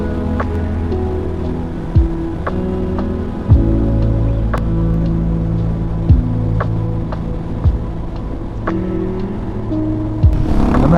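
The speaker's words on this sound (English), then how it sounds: "I'm actually riding in proper rain." Rain falling while riding a Royal Enfield Himalayan 450 motorcycle, with a steady engine drone and hum throughout and brief sharp taps and bumps every couple of seconds.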